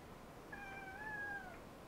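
A house cat lets out one short, clear meow close up in a quiet room.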